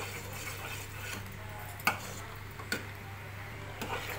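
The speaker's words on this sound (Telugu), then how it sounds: "ఇది కొంచెం దగ్గరకు పడేలాగా కలుపుతూ ఉండాలి" Semolina halwa with dry fruits being stirred in a pan, a soft continuous scraping with a few sharper clinks of a spoon against the metal at intervals, close and fairly quiet, with no talking.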